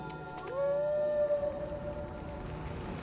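A single drawn-out howl from Torgal, the wolf dog in Final Fantasy XVI, rising then holding a steady tone for about a second before fading under soft game ambience.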